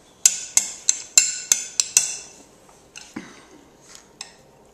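A toddler's spoon clinks sharply against a bowl of oxtail soup, about eight quick, fairly loud metallic taps in an irregular rhythm, followed by a few fainter scrapes and clinks.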